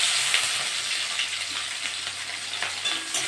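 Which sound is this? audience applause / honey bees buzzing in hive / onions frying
onions frying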